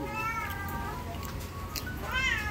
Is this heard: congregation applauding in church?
no